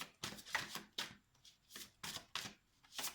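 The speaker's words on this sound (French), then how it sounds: "je vais aller prendre une carte pour le premier tirage là, que j'ai fait et une deuxième pour l'autre" Tarot cards being shuffled for a draw, a run of soft, quiet riffling bursts repeating at a steady rhythm, close by with no voices.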